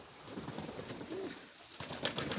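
A Nikolaev breed pigeon coos close by at a village dovecote, a short soft throaty call, followed by faint rustling and light fluttering sounds.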